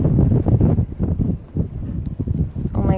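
Strong wind buffets the microphone on the Hawaiian coast, a continuous loud low rumble with gusty surges, while someone talks over it throughout.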